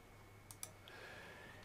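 Two quick computer mouse clicks, light and close, in an otherwise quiet room with a faint steady hum.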